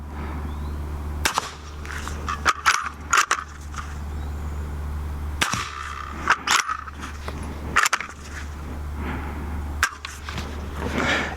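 A suppressed 300 Blackout bolt-action rifle fires outdoors in several sharp, fairly quiet shots spread across the stretch, with bolt clicks and a steady low hum between them.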